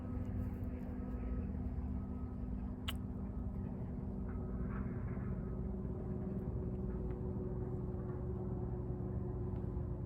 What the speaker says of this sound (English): That's a helicopter, not an airplane.